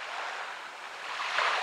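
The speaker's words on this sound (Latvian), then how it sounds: "un lielie viļņi" Big Indian Ocean waves wash in a soft, breathy surf hiss that swells slightly toward the end, heard from a distance and fairly faint.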